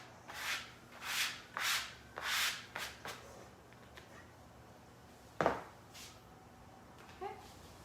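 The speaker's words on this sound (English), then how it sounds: "Bench scraper here. Scrape this all into a bowl." A bench scraper drags prepped food across a board into a bowl in a run of rasping strokes that come close together, then one sharper scrape and a light clink near the end.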